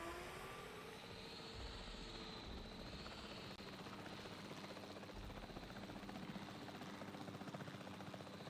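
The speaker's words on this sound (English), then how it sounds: "The priority needs to be tranquilizing it with the capture team chopper." A capture team helicopter in a dinosaur park management video game flies with a steady, continuous rotor drone and engine whine, faint and constant with no talk over it.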